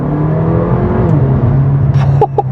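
Mercedes GLA 45 AMG in comfort drive mode pulling hard from a standstill, its engine note rising and holding steady and loud before a brief gear-change dip near the end.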